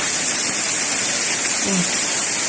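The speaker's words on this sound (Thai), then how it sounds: "บรรยากาศฝนตก" Rain pours steadily over a grape farm behind a house, a dense, even hiss that stays loud and unbroken throughout with no clear pauses.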